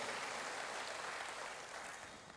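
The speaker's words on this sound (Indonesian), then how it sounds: "Berikan tepuk tangan bagi Tuhan, haleluya." A church congregation applauds together, a soft, distant wash of clapping that stays steady and fades slightly toward the end.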